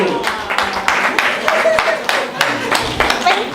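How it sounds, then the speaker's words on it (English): Several people clap for a contestant named Ado in a steady uneven patter, close and fairly loud, with voices talking over the applause. "A round of applause for our sister Ado."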